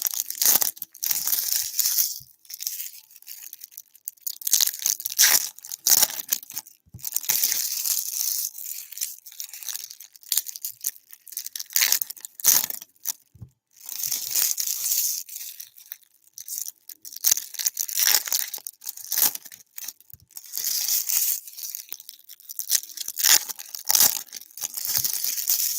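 Paper crumpled and crushed by hand, giving a long series of loud, close crackling bursts broken by short pauses.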